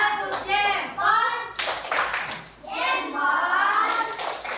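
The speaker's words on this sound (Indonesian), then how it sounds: "Kasih dulu tepuk jempol untuk kelompok 3." Primary school class doing a rhythmic thumb-clap cheer for a group, bursts of clapping mixed with children's voices chanting in unison, close and lively.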